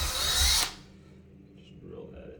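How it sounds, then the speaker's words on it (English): A power drill bores a hole for a towel rack, a loud, steady whir lasting under a second before cutting off, followed by quiet room tone. "Drill our hole nice and straight."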